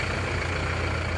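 A non-turbo Panther diesel engine with replaced liners idles steadily, a continuous low rumble with a rough, chugging texture, close and moderately loud, with no voices.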